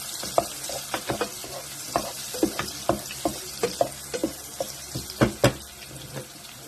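Mushrooms frying in a pan before green beans go in, soft sizzling under repeated scraping and clinking stirring strokes that come in a quick irregular rhythm, close by.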